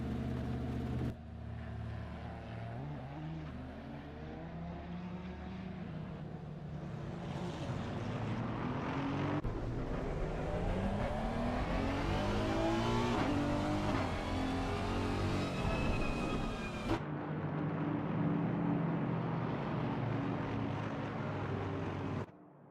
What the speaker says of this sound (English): Drivers taking their formation lap as we speak, folks, and bobbing and weaving their way around the track